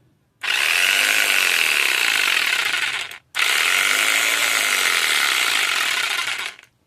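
Rebuilt Dentella electric hair clippers fitted with a new gear run in two loud, steady bursts of high buzzing whir, separated by a brief stop, close up with no talk.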